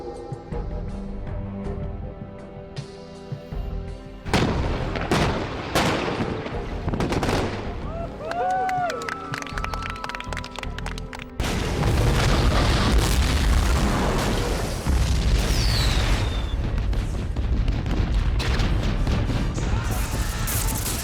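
Film special-effects explosions, loud bursts and booms with crackling debris, repeated throughout and building to a sustained roaring blast in the second half, with musical tones mixed in.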